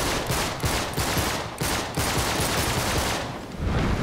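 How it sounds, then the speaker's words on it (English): Rapid overlapping gunfire from Uncharted 3: Drake's Deception on PS4, pistol shots cracking in a steady dense burst for several seconds with no talk over it. "I'll use a pistol instead."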